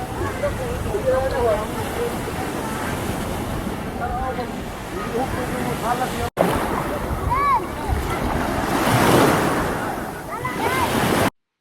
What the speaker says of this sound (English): The next place we visited was the White Sand Beach, and this was a very pretty sight.